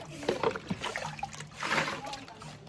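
Water is poured and sloshed while quilts are washed by hand at home, giving bursts of splashing close by, mixed with people talking over it.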